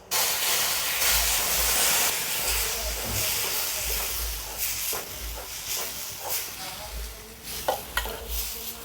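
Boiled milk is poured into a hot pan of roasted mango pulp, setting off a loud, steady sizzle and hiss. Stirring scrapes and clatters follow as the hiss fades, with no talking.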